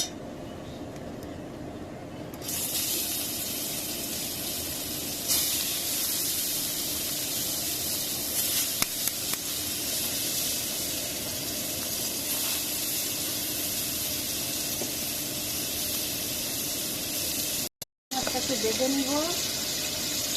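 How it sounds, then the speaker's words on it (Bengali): Constant loud sizzling hiss of prawns frying in hot oil, continuing steadily with a brief pause and a faint voice near the end. "এখন মাছটা ভেজে নিব চিংড়ি মাছ"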